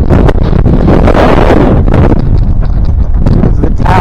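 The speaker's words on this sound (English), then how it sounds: "It's very windy on the other side." Strong wind at the 10,000-foot summit of Mount Washburn in Yellowstone batters the microphone with loud, continuous roaring gusts and buffeting from start to end.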